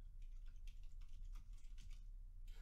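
Quiet, rapid clicking of keys on a computer keyboard as a folder name is typed, in short irregular bursts with no talking.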